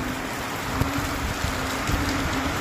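Heavy rain pours steadily in a storm in Bicol with strong wind, a dense continuous wash of noise with scattered heavier drops and no voices.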